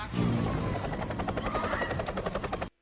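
A helicopter in an action film, its rotor thumping in a steady, rapid rhythm, loud and close, with no talking before the sound cuts off abruptly.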